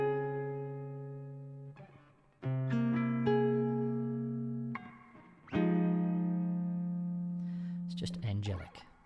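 Guitar played through a Fishman acoustic amplifier, sustained chords and single notes ringing out with gentle reverb, close and clear, strummed in several bursts without talk.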